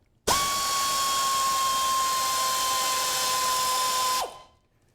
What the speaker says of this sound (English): the air ratchet really makes things a lot nicer